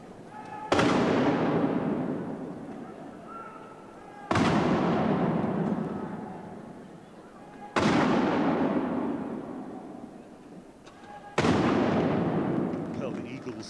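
Ceremonial gun salute fired by the King's Troop Royal Horse Artillery before a 13,000-strong crowd at the 1989 Royal Tournament: four loud, booming cannon blasts at steady intervals of about three and a half seconds, each rolling away into a long reverberant decay.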